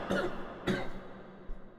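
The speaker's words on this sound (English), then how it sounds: "Still got that cough." Two short, close coughs come about half a second apart, followed by a faint third catch, in a quiet room.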